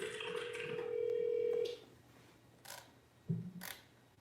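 A phone ringing in the background during an online webinar, with a sustained electronic tone followed by a few brief clicks and beeps, fairly faint and with no speech over it.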